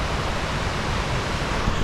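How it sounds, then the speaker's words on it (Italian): Rushing floodwater of a river fed by a waterfall in Iceland, a loud, continuous broadband roar with no breaks, close by and drowning out everything else. "guardate l'acqua come impetuosa si muove nel fiume"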